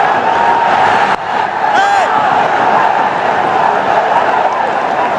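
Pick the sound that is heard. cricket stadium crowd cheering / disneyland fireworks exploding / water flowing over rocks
cricket stadium crowd cheering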